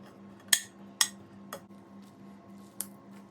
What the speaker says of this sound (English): I'll use a colander and I'll press them with a spoon